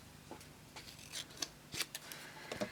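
Scissors trim paper while making handmade cards, giving a series of short, crisp snips spaced irregularly and heard up close in a quiet room.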